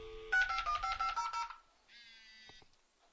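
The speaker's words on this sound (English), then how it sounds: "Sorry, I had my phone go off there." A mobile phone goes off nearby with a rapid run of electronic tones and beeps, then a shorter steady tone and a couple of clicks, with no talk over it.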